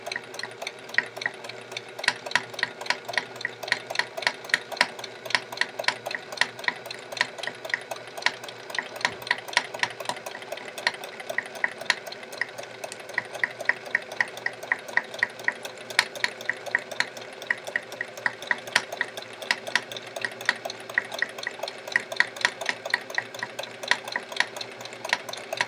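Home sewing machine doing free motion quilting at a slower speed, a steady close rapid clatter of the needle running continuously and evenly throughout with no talking.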